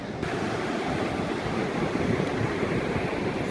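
Ocean waves wash onto a beach in Mexico in a continuous, fairly loud roar of surf mixed with breezy wind noise on the microphone, with no voices.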